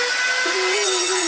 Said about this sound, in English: It turned out I had just enough OSB to cut 2 new top boards for the poopy benches